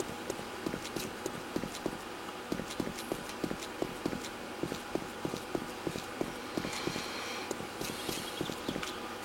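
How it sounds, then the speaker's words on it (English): Footsteps in a video game, with a possible nearby horde, repeat as quick, regular thuds at about two per second over a constant hissy background. "I'm hearing a lot of footsteps."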